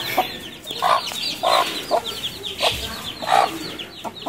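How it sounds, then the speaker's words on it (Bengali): A wild jungle fowl hen in a palm plantation clucks repeatedly in short, close, rhythmic bursts over faint outdoor ambience, with higher chick-like peeps between the clucks. "মুরগিটা অনেক হিংস্র আছে, জঙ্গলি মুরগি তো।"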